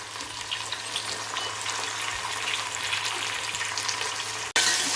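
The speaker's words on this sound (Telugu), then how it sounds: "టమాటాలు కూడా వేగుతున్నాయి" Tomatoes frying in oil for a fish curry, a steady, crackling sizzle heard up close that swells abruptly louder just before the end, with no one talking.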